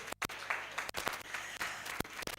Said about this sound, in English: So a round of applause for my GYNAE Foundation.